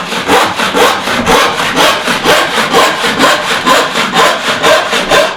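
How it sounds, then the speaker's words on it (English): Steady push-stroke rhythm of a ripsaw cutting through wood by hand, working from the opposite side of the board; about a dozen even, loud, rasping strokes close by with no talking. "So I can just flip it over and saw from the other side."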